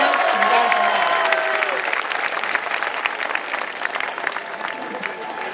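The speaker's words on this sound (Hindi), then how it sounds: "एक बार जोरदार तालियां आपकी उठें।" Applause from an audience at a Hindi poetry recital held at a college, a dense, steady wash of many hands clapping that swells at first and then slowly eases off.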